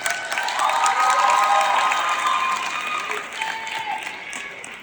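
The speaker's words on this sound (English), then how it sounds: "give yourself a big round of applause" A graduation ceremony audience breaks into sustained, dense applause with some cheering, swelling early then tapering slightly, with faint voices mixed in.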